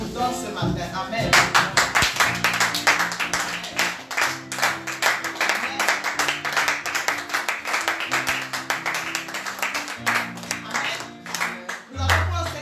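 A church congregation claps together to acclaim the Lord during a French-language worship service, rapid rhythmic handclaps over singing voices and instrumental music, loud and close, carrying on for the full stretch.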